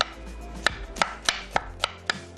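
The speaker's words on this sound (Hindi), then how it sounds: "स्लाइस करके थोड़ा सा इसको छोटा काट लेंगे" A knife chops sliced onion on a cutting board with six crisp, evenly spaced thuds, loud and close, over a faint low background hum.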